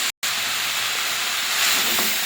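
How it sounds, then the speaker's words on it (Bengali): Cabbage and potatoes fry hard with spices in hot oil, giving a loud continuous sizzle with a brief dropout near the start. "এবারে ভালো করে বাঁধাকপিটা কষিয়ে নেবো মশলার সাথে"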